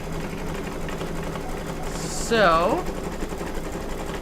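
An embroidery machine stitches a Thanksgiving table runner, a steady mechanical hum running throughout, with a brief spoken word partway through.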